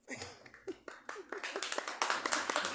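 An audience at a talk starts clapping, at first a few scattered claps that quickly build into faster, denser applause, fairly close and moderately loud.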